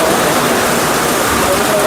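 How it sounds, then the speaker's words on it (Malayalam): Heavy monsoon rain pours down in a steady, loud, dense hiss with no breaks, close by and drowning out other sound. "ഇപ്പൊ നല്ല പെരുമഴ. ഇപ്പോഴാണ് അവൻ പറഞ്ഞതുപോലെ നല്ല മഴ ആയത്."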